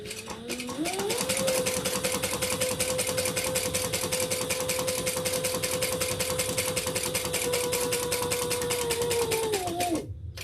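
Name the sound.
sewing machine back stitching a handbag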